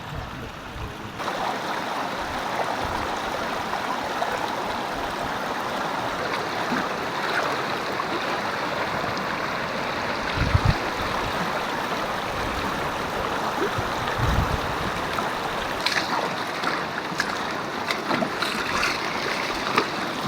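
A shallow stream flows over stones near Guiritsan Falls in Igbaras, Iloilo, a continuous close rush and burble of water with a few brief splashes or footsteps partway through, without talking.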